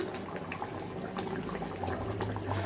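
Vegetable soup simmering in a pot, a faint, continuous bubbling and gentle liquid burble without talk.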